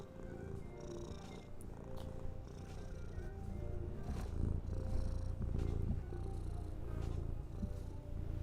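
A cat purring close by, a steady low rumbling throb that continues throughout with a few soft rustles on top, no talking.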